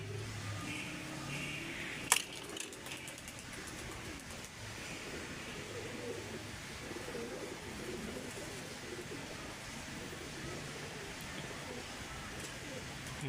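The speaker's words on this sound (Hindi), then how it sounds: "ये तो क्रीज में पड़े हुए हैं सारे कबूतर" Teddy pigeons sit in crates and coo softly under steady background hiss, with a voice talking faintly and one sharp tap early on.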